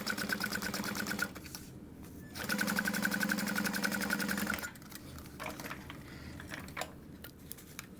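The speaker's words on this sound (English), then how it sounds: "we're just going to top stitch along the top edge at about 1/8 of an inch" Sewing machine top stitching the top edge of a fabric wristlet in two bursts of rapid, even needle chatter, separated by short pauses and followed by quieter handling noise.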